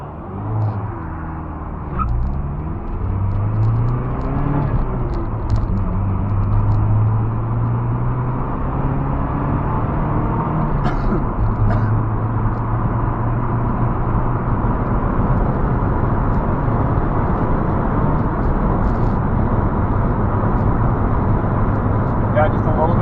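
A vehicle engine pulls steadily in fourth gear, a continuous droning rumble building slightly in revs over a long stretch, with people talking over it at times.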